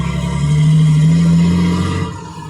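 An MT106 truck on a driving test pulls away with a loud, droning engine note that rises briefly and then eases off, heard close by without talk.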